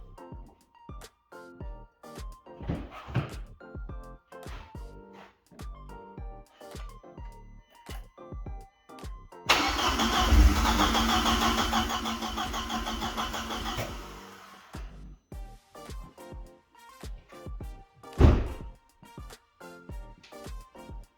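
A car engine in need of a rebuild cranks over during a compression test, with repeated starter churning and short mechanical bursts, then a loud sustained roar for several seconds as it briefly catches, before cranking resumes with another sharp burst.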